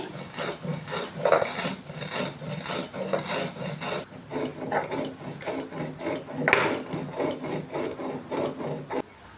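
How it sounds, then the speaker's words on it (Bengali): Roasted cumin, fennel and fenugreek are ground on a shil-nora grinding stone, a continuous close rasping rub with rhythmic back-and-forth strokes and occasional harder scrapes, with no talking. "একটু ভালো করে ভাজা হয়ে গেলেই শিলনোড়াতে গুঁড়ো করে নিচ্ছি"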